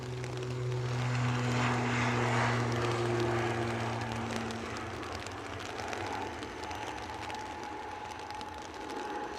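An airplane departs Edinburgh Airport, its engines a loud, steady roar with droning tones that slowly fade. The sound carries across open ground and plays alone, with no speech.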